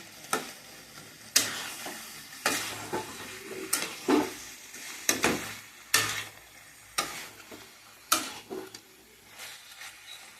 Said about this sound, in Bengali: এবারে আমি এটাকে ভালো করে নেড়ে চেড়ে নেবো